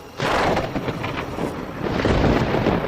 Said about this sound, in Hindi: उसने अभी बाहर कदम रखा ही था कि अचानक से आसमान में तेज बिजली कड़कने लगी।